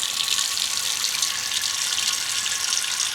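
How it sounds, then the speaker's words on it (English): Tap water runs steadily into a cooking pot on a kitchen counter, a constant bright splashing rush with no voices over it. "So we're going to fill our pot up with water."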